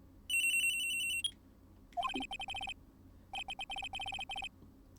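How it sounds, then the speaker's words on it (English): A cell phone rings in the courtroom adventure video game Ace Attorney, with a sustained electronic tone followed by two bursts of rapid, chirping ringtone pulses, clear and moderately loud with no talking. "I received a call on my cell phone."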